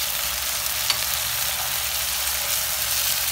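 Chicken pieces fry with spices in a pan, giving a steady close hissing sizzle with light stirring clatter and no talking.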